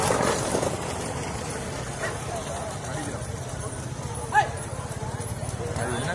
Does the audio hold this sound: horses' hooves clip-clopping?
yes